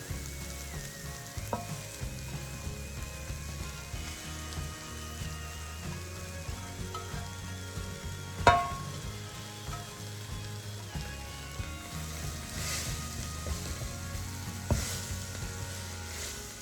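Chopped kale sizzles steadily in a hot pan while being stirred, a soft continuous crackle broken by occasional scraping and clinking from the spoon, fairly quiet and close with no talking.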